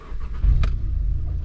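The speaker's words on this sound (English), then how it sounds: "we should be good here to go ahead and start the car up" A Volkswagen MK7 GTI with a Stage 2 tune starts up nearby, a short crank followed by the engine catching and settling into a steady low idle.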